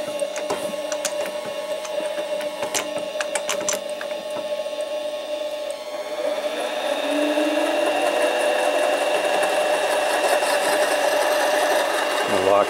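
Harbor Freight 7x10 mini lathe cutting aluminum tube, giving a steady mechanical whine with sharp clicks early on, then a louder, fuller continuous cutting tone from the middle onward.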